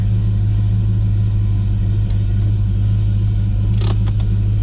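A loud fuel pump in a parked car idling in neutral sets up a steady, close drone with a constant low hum, broken only by a few brief clicks near the end.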